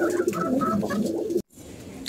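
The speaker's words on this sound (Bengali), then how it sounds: "আমাদের কবুতর স্যার খাওয়া খাওয়া হইতেছে, দেখেন বাচ্চা ঘুরে যাচ্ছে।" Pigeons in a loft coo in low, rolling calls close by, several overlapping phrases for over a second before a brief cut and quieter ambience.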